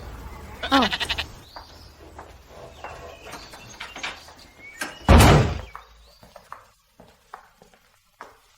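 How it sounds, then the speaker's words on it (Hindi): A door is shut with one loud, close thud midway, amid sparse small knocks and an earlier bleating, animal-like cry. "मैं दरवाजा बंद कर रहा हूँ।"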